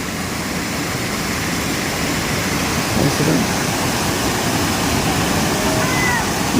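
Tukuran Falls in San Teodoro, Oriental Mindoro, a loud, steady rushing roar of cascading water that fills the scene without pause, with faint distant voices barely poking through.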